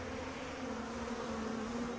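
A swarm of flies buzzes in a dense, steady drone with a constant hum and no pauses, close and even throughout.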